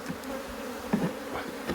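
A small honey bee colony in an opened hive among aloes gives off a steady, close droning buzz, even and unbroken throughout, with no talking.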